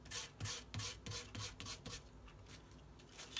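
Rhythmic rubbing and rasping strokes as blue glitter is burnished into a white craft surface, roughly a stroke every third of a second, close and fairly quiet, fading to a softer steady scrub toward the end.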